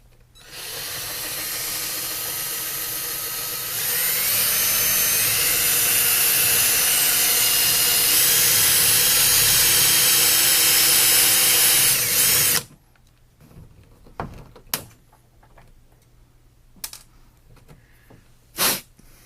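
A power drill bores a 3/16 inch hole through the plastic hull of a Jackson Kayak Cuda 14 for rudder kit rivets. It whines loudly and steadily up close, rising in pitch partway through, then stops, followed by faint clicks and handling noises.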